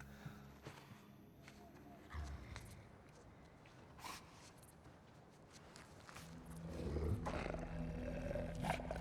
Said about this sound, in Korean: 스스로 재갈을 풀어낸 늑대가 잠시 으르렁대지만